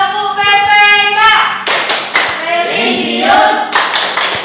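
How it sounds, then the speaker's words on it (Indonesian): Fourth-grade classroom of students standing to perform a rhythmic PPK clap chant, sharp group claps in patterned bursts mixed with children chanting in unison. "Yuk, kita tepuk PKK."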